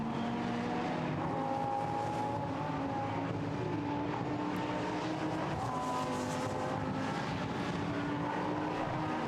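A Lamborghini Super Trofeo race car powers through the right-hand Stowe Corner at Silverstone during a race, its engine a loud, continuous drone with shifting pitch that fills the whole stretch without pause.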